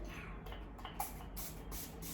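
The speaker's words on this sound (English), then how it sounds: "You take a piece of cotton, tissue paper, and spray it like quite generously with this liquid." PAC instant brush cleaner liquid is sprayed onto tissue paper in several short, close hissing bursts from a pump spray bottle, quiet and spaced closely together.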